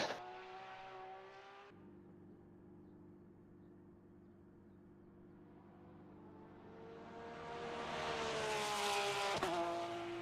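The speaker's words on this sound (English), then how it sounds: "As we are just waiting for the final car to cross the line" A GT3 race car crossing the finish line at Silverstone in a racing game: a steady engine drone with a sharp cut early on, then a rising, louder whine as the car approaches and passes, fairly faint overall.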